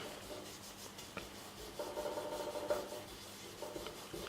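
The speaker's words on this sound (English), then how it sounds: "After this, I will rub the paste around" Chromium dioxide paste is rubbed into a leather strop with a soft, steady scraping and rubbing texture, growing a little louder midway through the strokes, close and quiet with no talk.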